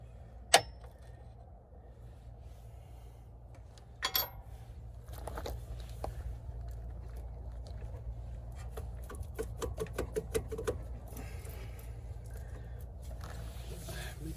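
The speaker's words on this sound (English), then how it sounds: "Put your Ryobi impact on there." A Ryobi impact wrench works on shock absorber bolts of a Ford F350 truck, giving bursts of rapid rattling hammering after a couple of sharp metallic clanks, with a low steady background hum.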